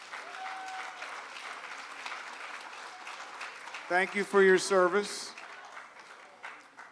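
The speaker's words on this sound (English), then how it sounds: "Big round of applause." Sustained applause from an audience at a charity show, with someone speaking over the clapping for a moment before it continues steadily.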